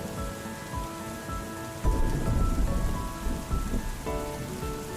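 Rain falls steadily on a surface with a low roll of thunder rumbling in after a couple of seconds, a dense, constant patter with no voices.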